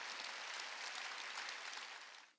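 A church congregation breaks into a short burst of dense applause during a Wednesday worship service, many hands clapping together before fading out after about two seconds.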